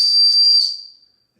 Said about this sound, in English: it has a whistle in it